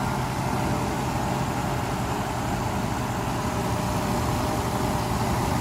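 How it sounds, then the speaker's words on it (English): A Mercedes S600 W140 engine running steadily just after a throttle body overhaul, a dense continuous drone with even low rumble and broadband hiss, close and unbroken throughout. "engine runs."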